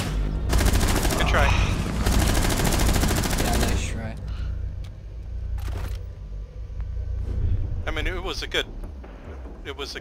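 Rapid gunfire in Rainbow Six Siege, including shots through a wall, roars in a dense burst of automatic fire followed by a few scattered sharp shots and clicks, close and loud, with people talking.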